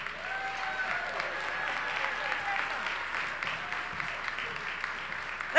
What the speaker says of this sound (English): Let's give Elder Ferguson another round of applause.